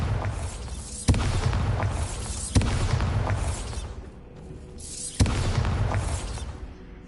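Bombarda spell blasts in Hogwarts Legacy, three sharp booming explosions at uneven intervals, each a sudden loud crack followed by a rumbling, decaying roar.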